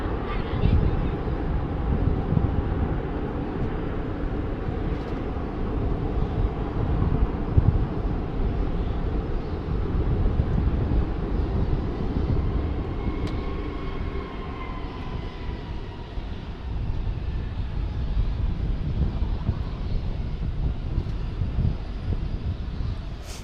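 A Japan Airlines Airbus A350 arriving at DFW and touching down on the runway, a steady broad roar of engines and rushing air heard from a distance, continuous throughout, with a voice speaking over it.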